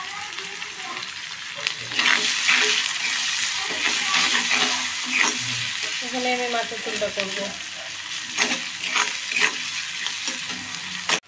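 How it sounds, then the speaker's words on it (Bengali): Torn onion and green chilies fry in hot oil for a fish curry, a steady loud sizzle broken by stirring scrapes and clatter, while someone speaks briefly over the cooking. "তবে সেই তেলে আমি এখন পেঁয়াজ আর কাঁচা লঙ্কা ছিঁড়ে দিয়েছি।"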